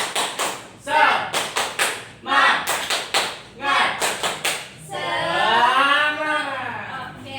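A class of schoolchildren doing a rhythmic spirit clap, several quick bursts of patterned group clapping in a set beat, followed by voices calling out together.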